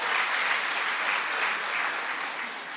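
Audience applause welcoming a poet at a literary gathering in Pune, a steady, dense clapping that fills the whole stretch at even loudness, with no voices over it.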